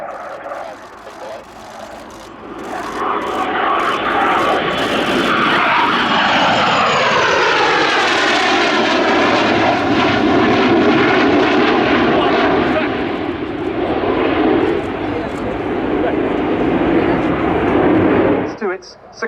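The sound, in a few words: Dassault Rafale jet fighter flying at airshow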